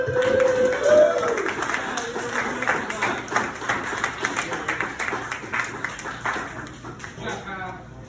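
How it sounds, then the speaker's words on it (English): A comedy club audience claps in a dense, steady patter of many hands, with voices and room noise mixed in and the clapping thinning out toward the end. "Everybody clap."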